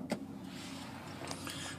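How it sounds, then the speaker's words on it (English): The power rear window of a 2015 Ram 1500 Sport pickup runs, giving a steady electric motor whine under quiet cabin ambience and ending with a faint click. "Around the back there, you got the power rear window."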